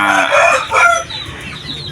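A Shamo hen lets out a loud, close cluck-like call that rises and falls, followed by softer clucking in the background.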